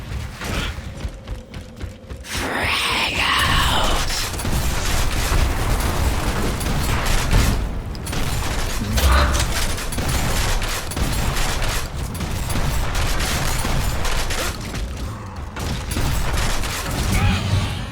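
Dense, loud gunfire and booming blasts rumble almost nonstop in a Gears of War: Ultimate Edition Team Deathmatch match on the Gridlock map, with brief lulls between bursts.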